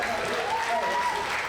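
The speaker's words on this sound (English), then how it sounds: "Give him another big round of applause." A short burst of applause from the audience at an Ozarks Opry musical variety show, a dense, steady patter of clapping at moderate distance, with a voice carrying over the top.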